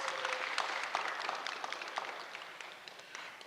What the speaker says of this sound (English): Let's give our men and women basketball teams a round of applause